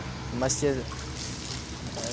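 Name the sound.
rainwater being bailed out with buckets in a flooded mosque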